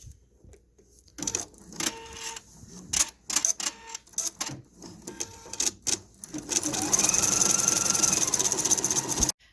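An embroidery machine sews an appliqué tack-down stitch, its needle chattering in quick irregular bursts before settling into a steady, fast, whirring run close by, with no talking.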